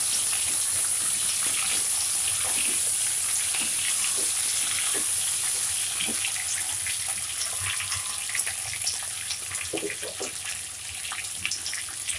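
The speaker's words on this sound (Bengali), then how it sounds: "একটু ভেজে নেব মুরগিটা।" Chicken fries in a pan with garam masala, giving a continuous close hiss and crackle with occasional scraping stirs over it.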